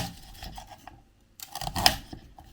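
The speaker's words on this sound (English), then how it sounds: "now we're going to cut up some of the rhubarb" A knife slices fresh rhubarb stalks into one-inch pieces on a board, producing close, crisp scraping cuts in quick bursts. A quiet pause falls between the two clusters of strokes.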